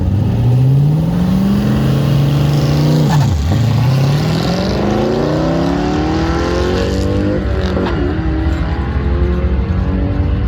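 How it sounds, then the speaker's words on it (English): A Nova race car at a Rocky Mountain Raceweek track accelerates hard and sweeps past with a loud, continuous engine roar that rises and falls in pitch, then a second pitch swoop follows as it shifts and speeds away. "Tom Taylor currently in 3rd place with the Nova"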